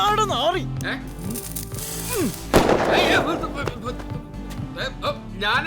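People talk over one sharp firecracker burst, set off between someone's feet, that cracks loudly partway through and fades quickly.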